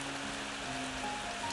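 Rain falls in a brief, faint, steady wash of pattering noise with no distinct individual drops standing out.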